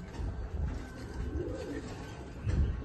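A small female pigeon gives a soft, low coo, faint and brief, over a quiet, muffled room background.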